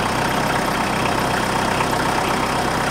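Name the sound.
tractor engine idling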